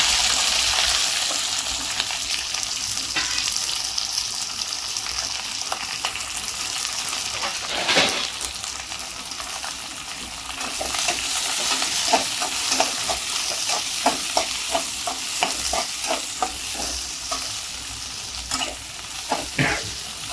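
Chopped onion and green chilli frying in a pan for tomato chitranna gojju, a steady close sizzle with repeated scraping stirs of a spoon against the pan, growing more frequent toward the end.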